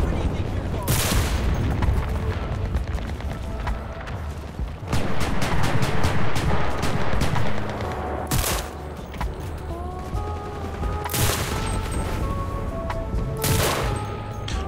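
Urban combat in the shooter Enlisted brings bursts of gunfire and rapid machine-gun volleys with heavier booms, loud and near, cracking repeatedly over a continuous battle din while someone talks now and then.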